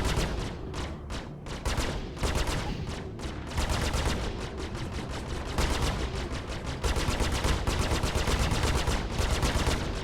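Spaceship laser cannons fire in the space-combat game Star Citizen: dense, rapid-fire bursts repeat steadily and loudly for the whole stretch, with brief gaps between volleys.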